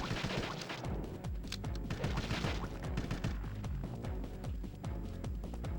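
Machine pistol fire in the sci-fi shooter Destiny 2, a rapid, continuous stream of quiet shots in a dense, rhythmic patter lasting several seconds, mixed with low in-game rumble and impacts.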